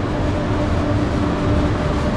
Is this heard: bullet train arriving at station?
yes